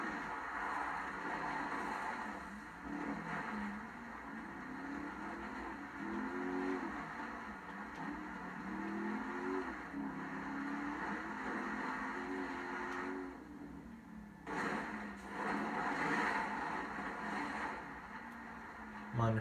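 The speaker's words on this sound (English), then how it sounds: "The 5-liter V8 sounds pretty good." Five-liter V8 of an armored Gallivanter Baller LE SUV in a video game, a steady engine drone with shifting tonal revs across most of the stretch, moderately loud, dipping briefly before rising again near the end.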